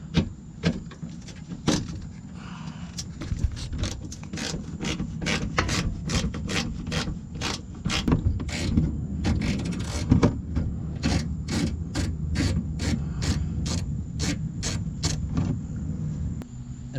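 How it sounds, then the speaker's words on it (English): A ratchet loosens a 10mm bolt on a Toyota Camry bumper cover, making close, rapid runs of sharp clicks in repeated bursts against a faint background hum. "I'm going to go ahead and remove this 10mm bolt that's facing upwards."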